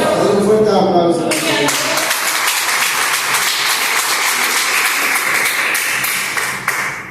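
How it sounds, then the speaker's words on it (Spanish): Church congregation breaks into loud applause, dense clapping from many hands that swells right after a brief spoken line at the start and then carries on evenly before tapering at the end. "Un fuerte aplauso."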